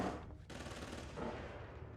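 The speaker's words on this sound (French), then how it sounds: "Donc là, on entend des coups de feu." Rapid bursts of gunfire in the horror video game Outlast, set in an asylum, crackle densely and steadily for about two seconds, fairly loud with no talk over them.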